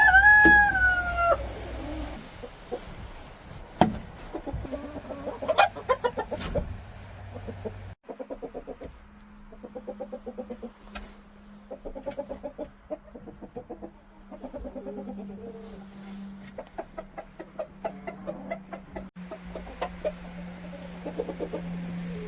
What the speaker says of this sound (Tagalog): Yung aking mga manok, dito sila nang itlog sa maliit na kulungan.